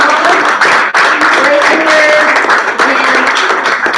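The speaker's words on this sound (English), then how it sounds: "If the girls could give our seniors a round of applause." Applause and clapping from a crowd honoring the seniors at a cheerleading banquet, a dense steady patter lasting throughout with voices talking over it.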